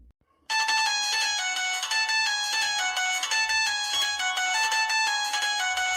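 A loud electronic phone ringtone starts abruptly after a brief quiet moment, then plays a repeating melodic pattern continuously.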